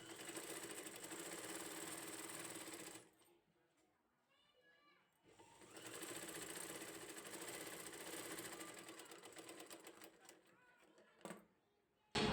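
An electric sewing machine runs steady stitching on blouse cloth, a close continuous mechanical whir that stops partway, leaves a brief quiet gap, then starts again for a longer run before cutting off near the end.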